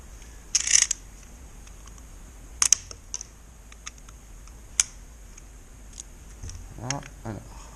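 Plastic packaging for M42 band saw blades is handled and torn open, giving scattered sharp clicks and crinkles, close and intermittent, with a brief stretch of speech near the end.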